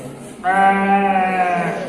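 A voice imitates a goat's bleat: one wavering, nasal call lasting just over a second, close and clear.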